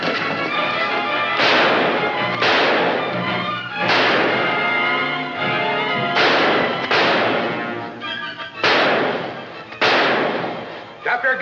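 Several sharp gunshots ring out in a shootout from an old crime drama, spaced irregularly across the scene, each loud and echoing, amid tense shouting voices.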